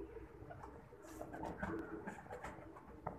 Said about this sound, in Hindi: गोल्डन कबूतर है वजन किसी का